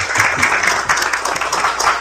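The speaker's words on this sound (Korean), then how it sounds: "박수 한번 부탁드립니다" Applause fills a Democratic Party supreme council meeting, dense steady clapping from a crowd lasting throughout, loud and close with no pauses.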